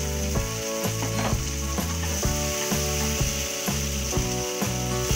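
Capsicum and paneer sizzle steadily in a hot pan for chili paneer, a continuous loud frying hiss with regular rhythmic clatter from a mechanism running alongside, no voices.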